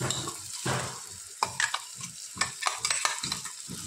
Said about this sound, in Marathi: ती पण परतून घ्यायची म्हणजे टोमॅटोचा वास येत नाही, परतायची तिला।